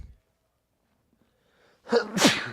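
A single close sneeze bursts out sharply near the end after near silence, with a quick intake before the forceful release.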